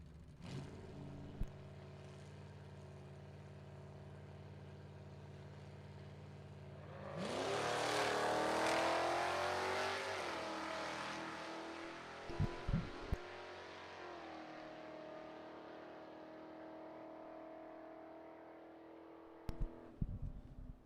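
A 1978 Mustang and a 2018 Challenger launch at a drag strip, engines idling low before a loud roaring surge that fades as the cars pull away into the distance, with a few sharp pops afterward.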